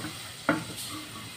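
Quiet, steady sizzling of nasi goreng frying in a pan, with one brief clatter of a utensil partway through.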